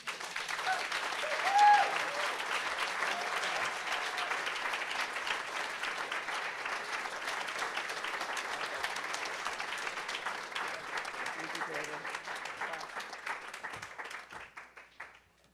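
A crowd at a faculty reading event applauds steadily for several seconds, dense and even, then tapers off at the end.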